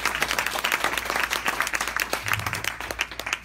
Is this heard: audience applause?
yes